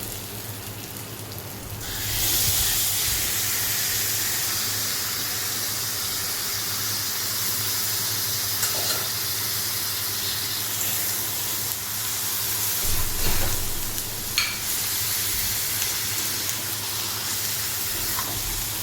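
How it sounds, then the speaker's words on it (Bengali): Marinated chicken hits a hot pan and fries, giving a steady loud hiss and sizzle that swells after the first couple of seconds and carries on evenly with a few faint clinks. "এরপরে আমরা আধ ঘন্টা ম্যারিনেট করে রাখা চিকেনটা দিয়ে দেবো।"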